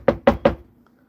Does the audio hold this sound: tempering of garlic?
no